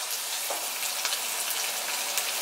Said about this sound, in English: you guys can see how it's frying.